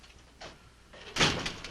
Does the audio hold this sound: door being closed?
yes